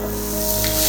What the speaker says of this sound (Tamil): இதை அப்படியே போட்டு கொஞ்சம் அப்படியே லைட்டாக இந்த ஆயிலில் லைட்டாக அப்படியே ஃப்ரை பண்ணுங்க